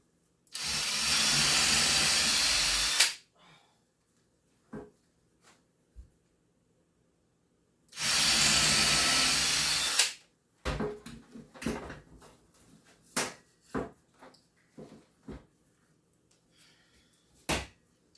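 Two loud bursts of a power drill boring holes in a belt, each about three seconds, separated by quiet, followed by scattered knocks and clatter of handling material.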